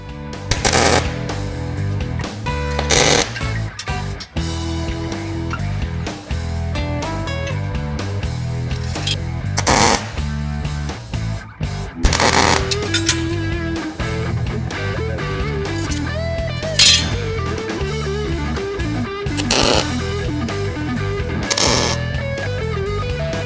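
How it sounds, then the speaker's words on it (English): Tack welding on a steel framework for a tent rack on a small trailer: several short, sharp crackling bursts spaced a few seconds apart, heard over steady background music. "go ahead and start tacking this framework together"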